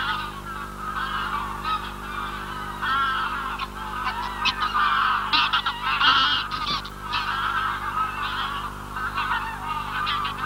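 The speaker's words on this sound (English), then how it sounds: "the geese will return nightly after feeding on the local fields." A flock of geese honking continuously, many overlapping calls forming a loud, busy chorus with no talking.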